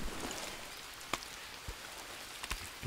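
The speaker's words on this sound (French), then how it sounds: "La pluie s'arrête, pas grave." Rain falls steadily in the Green Hell video game, a soft continuous patter with a few louder drips landing close by and no voices.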